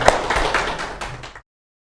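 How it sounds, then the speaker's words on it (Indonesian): A short burst of audience clapping follows the introduction of a poetry reading at an Islamic boarding school literacy event, with loose, close handclaps lasting just over a second before cutting off. "Mari kita beri tepuk tangan."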